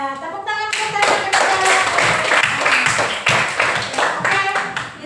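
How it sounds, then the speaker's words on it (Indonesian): A classroom audience claps hands in a quick, dense burst of close applause lasting several seconds after a short spoken cue. "Iya, tepuk tangan kita."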